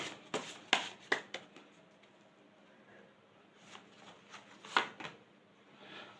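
Tarot cards being shuffled and drawn during a reading, heard as a few soft, close flicks and snaps that come in two short clusters over a quiet room.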